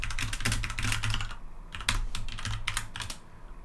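Rapid clattering keystrokes on a computer keyboard during a programming lecture, typed in quick bursts with a short pause midway, close and fairly loud with no talking.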